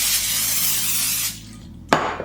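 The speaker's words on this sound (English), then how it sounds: "then spray that with cooking spray as well" Cooking spray hisses steadily from an aerosol can onto parchment paper in a baking pan for over a second, then stops, followed by a short sharp clack of the can or pan.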